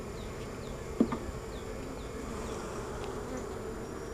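Honey bees buzz steadily throughout a backyard-style beehive inspection, a continuous close insect hum with a brief knock near the start and no talking.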